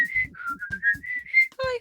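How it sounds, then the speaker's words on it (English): Someone whistles part of a song from the Seven Dwarfs, a clear, close solo melody of several sustained notes in rhythm, ending with a brief sung or hummed tone. "There's a great whistle part in this song."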